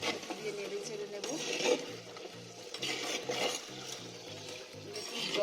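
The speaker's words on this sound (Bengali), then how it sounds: "চাপাটা নিচে হালকা লেগে লেগে গেছে, একদম দিয়ে নেড়ে চেড়ে নেব।" Utensil scraping and stirring food stuck to the bottom of a handi pot, with repeated rhythmic scrapes and light knocks against the pot and a voice talking quietly underneath.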